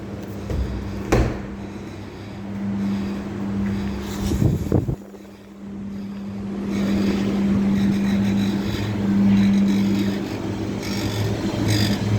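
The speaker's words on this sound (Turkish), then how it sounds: "Ana motorumuzda kompresörümüz çalışıyor." A cold storage refrigeration unit's main motor compressor runs steadily with a continuous low hum and mechanical drone, a brief sharp knock early on and a short dip before the running noise resumes.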